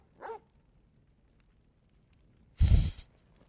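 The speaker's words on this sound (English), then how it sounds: "Press X for Torgal to bark." Torgal, the dog companion in Final Fantasy XVI, lets out a single loud, close bark near the end, preceded by a short soft snort or yip and quiet game ambience.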